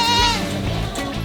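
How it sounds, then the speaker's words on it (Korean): Young black goats on a Korean farm bleat loudly and close by, with several overlapping wavering cries from a large herd of kids. "농장에서 키우고 있는 새끼 염소는 약 600마리."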